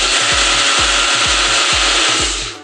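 A kitchen mixer blends a sapota milkshake with milk and sugar, a loud, steady whirring roar with rhythmic low thumps as the jar contents churn, running continuously before winding down at the end.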